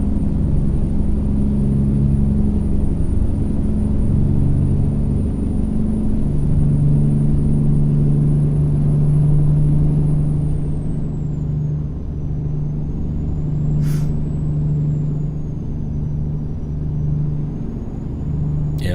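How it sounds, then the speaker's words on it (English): A truck engine rumbles loudly nearby for the whole stretch, then eases off, with two short sharp air brake hisses late on. "As the truck's getting loud again."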